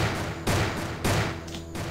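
Gunfire in the Roblox game RetroStudio: two loud, dense bursts of rapid shots, each cutting in sharply and then trailing off, close up with no talk over them.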